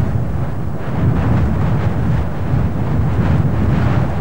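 Strong wind gusting across exposed Lundy island, a steady loud low roar buffeting the microphone throughout, with no speech.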